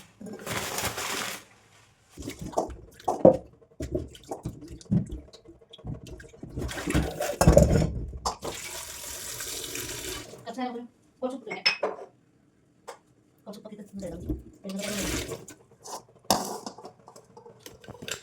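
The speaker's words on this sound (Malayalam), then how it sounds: "അപ്പോൾ ഞാനിത് കഴുകി വൃത്തിയാക്കി എടുക്കാം" Berries being rinsed and cleaned under running water in a home kitchen, with clattering dishes and clinking utensils over bursts of flowing water; the sounds come in uneven stretches with short quiet gaps.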